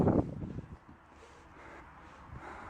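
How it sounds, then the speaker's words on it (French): Wind buffets the microphone outdoors at the Roman Temple of Janus in Autun, Burgundy, with a sharp rumbling gust at the start, then a low, steady blustery noise, with no talking. "Donc là, il y a du vent."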